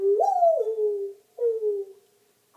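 A human voice mimics a dove's coo: two smooth, hollow hooting phrases, the first rising then sliding down, the second shorter, close and clear.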